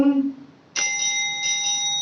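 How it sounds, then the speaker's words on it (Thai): A bicycle-style bell rings out loud and bright with a clear metallic tone that lingers. Before it comes a brief stretch of speech and a short pause. "นี่คือกระดิ่งนะฮะ"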